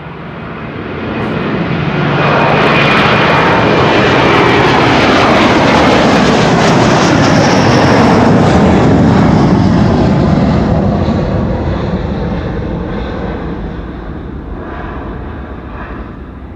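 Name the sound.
Delta Airlines jet taking off from Schiphol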